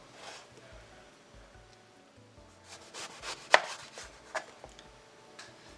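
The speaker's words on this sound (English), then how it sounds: "So once I finish cutting my slices" A knife slicing eggplant on a cutting board, a few soft close cuts and thuds with one sharper knock of the blade against the board, otherwise quiet.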